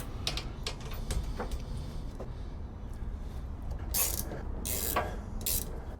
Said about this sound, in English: These ratcheting flex heads are really nice.